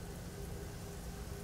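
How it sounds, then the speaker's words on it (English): Steady rain falling in the video game Generation Zero, a constant soft hiss with no distinct drops or thunder, even and unbroken throughout. "it has to be raining right now"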